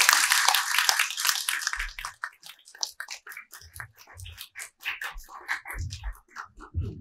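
Applause from a lecture audience honoring speaker Kim Ju-hee, a dense burst of clapping at first that thins into scattered, uneven claps.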